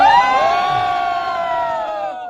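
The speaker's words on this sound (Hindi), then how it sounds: "Ladies and gentleman Khesari Lal. जोरदार तालियां हो जाए," Fans greeting Bhojpuri superstar Khesari Lal Yadav on stage let out a loud, drawn-out cheer, a long sustained whoop that slowly falls in pitch over a few seconds, with no distinct clapping.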